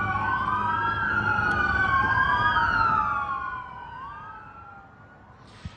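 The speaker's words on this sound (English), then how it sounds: "We saw several patrol cars arriving here at the hospital, lights and sirens going." Several sheriff's patrol cars arrive at a hospital with overlapping wailing sirens rising and falling together, fairly loud at first, then fading into the distance as they pass, ending with a faint thump.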